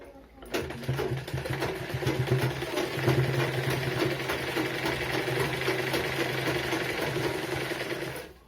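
A sewing machine runs in one continuous burst of stitching, a steady close mechanical whir and rapid chatter that starts abruptly and stops near the end, with no talk over it.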